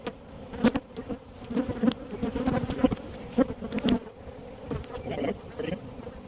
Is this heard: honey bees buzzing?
yes